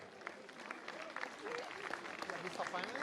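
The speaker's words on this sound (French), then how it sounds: "on peut réserver un tonnerre d'applaudissements à cette équipe Bike Aid" A roadside crowd at the Classic Grand Besançon 2023 cycling race claps for a team, a faint spread of applause mixed with a commentator speaking over it.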